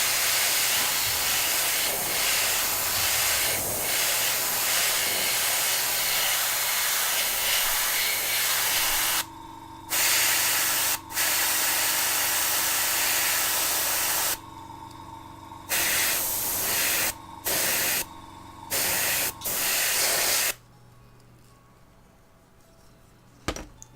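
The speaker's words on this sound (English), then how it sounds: "You have to be really careful, especially with sort of metallic base paints, not to overspray because it runs a little bit." An airbrush or spray can lays metallic base paint onto a Tamiya Volvo FH12 1/14 scale RC truck, giving a close, steady hiss that breaks into a series of short on-off bursts before stopping.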